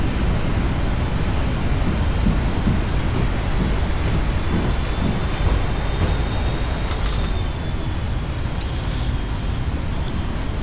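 An airliner applying reverse thrust just after touchdown at Kai Tak in a flight simulator, a steady broadband roaring rush that stays loud and constant throughout with no voices over it.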